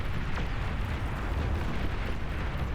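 Continuous roaring explosions from a bombing run in the strategy game Beyond All Reason, a dense, loud rumble of overlapping blasts with no pauses and no speech.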